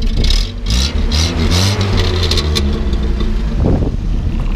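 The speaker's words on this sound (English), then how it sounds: "go ahead and rev it up a little bit" A 1970 Land Rover 88 Series II engine revs up and settles back, a loud, close, rough mid-pitched roar rising and falling over a few seconds with no talk.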